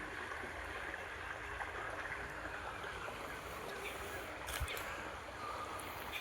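Irrigation water rushing into a maize field on a cold village morning in Gujarat, a soft continuous splashing flow heard faintly throughout with a brief louder splash near the end.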